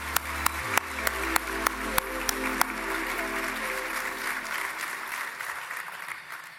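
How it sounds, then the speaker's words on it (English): A conference audience bursts into applause, sharp claps at first swelling into a dense, sustained round of clapping from a large crowd in a hall. "Let's give her another round of applause"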